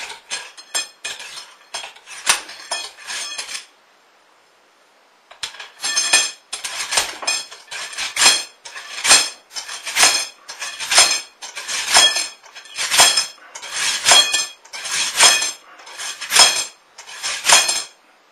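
A ramrod is driven repeatedly down a muzzleloader barrel to seat a bullet on the powder load, bouncing with sharp metallic clanks in a steady rhythm, close and loud, with no talking.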